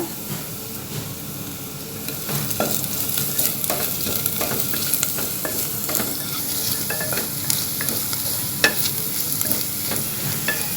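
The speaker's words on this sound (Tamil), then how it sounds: "பச்சை மிளகாய் வதக்கலாங்க பச்சை மிளகாய் வதக்கினோடனே தக்காளி சேர்த்துடலாங்க" Green chillies sauté in hot oil in a pan for a mushroom biryani, giving a loud, continuous sizzling hiss broken by frequent scraping and stirring knocks throughout.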